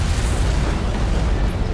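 An antimatter charge going off aboard a starship in Halo: Combat Evolved Anniversary, a loud, close, sustained rumbling blast that roars steadily for nearly two seconds with no voices.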